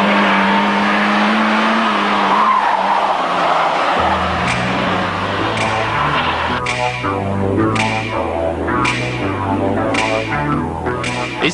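A Renault R19 16S, the mid-range sports version, driven hard, its engine loud and close with a rising pitch through repeated gear changes and no talk over it.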